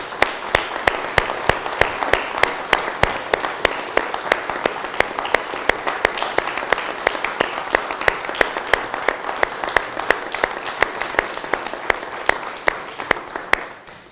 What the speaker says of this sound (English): join me in thanking all of them by giving them a round of applause